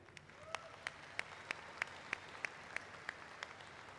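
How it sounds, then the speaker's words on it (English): Quiet applause at a 2024 college commencement ceremony, a soft bed of distant crowd clapping with one nearby pair of hands striking a steady, evenly spaced rhythm. "Let us give them another round of applause to express our deepest gratitude."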